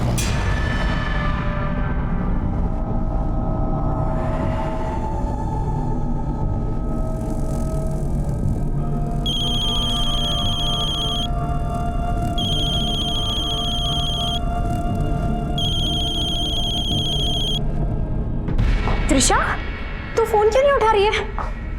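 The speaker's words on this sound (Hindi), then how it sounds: "बेल तो जा रही है लेकिन फोन नहीं उठा रही है।" A phone rings unanswered in repeated bursts, three evenly spaced electronic trills over a steady low hum, followed by a short clatter near the end.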